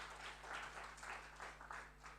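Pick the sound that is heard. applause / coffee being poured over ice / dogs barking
applause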